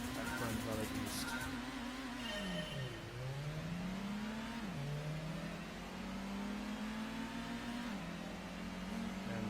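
Race car engines from Gran Turismo at Grand Valley East, revving and accelerating with pitch sweeping up and dropping at shifts, loud and continuous.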